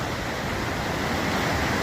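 A river flows steadily with a continuous broadband rush of moving water. The sound is loud, close and unbroken, with no voices.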